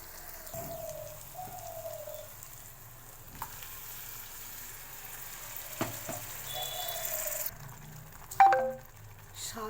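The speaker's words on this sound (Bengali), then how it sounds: "এখানে বেটে রাখা পালং শাকটা এই মশলার সঙ্গে দিয়ে দেব" Ground spinach paste frying with spices in a pan gives a soft, steady sizzle and patter, with scattered light clinks and scrapes and a sharper knock near the end, fairly quiet overall and with no voices.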